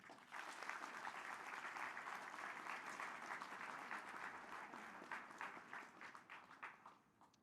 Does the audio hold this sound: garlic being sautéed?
no